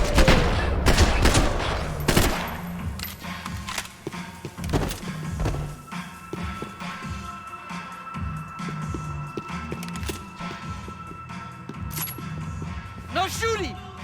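Bursts of gunfire and heavy thuds in the Max Payne 3 video game, loud and close, with rapid volleys early on and scattered shots later, mixed with footsteps and shouted voices talking over the action.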